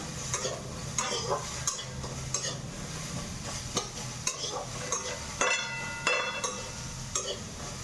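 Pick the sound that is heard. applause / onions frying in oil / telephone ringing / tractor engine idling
onions frying in oil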